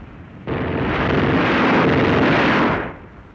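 A war film shows a German platoon firing: one sustained, dense roar of massed gunfire and explosions lasting about two seconds, loud and close, before dying away.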